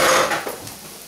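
Diced boiled potatoes tip into a pan with a short clattering rush that quickly fades to a soft rattle.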